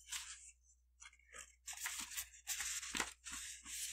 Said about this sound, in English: Paper rustling sounds. I'm rifling through the files.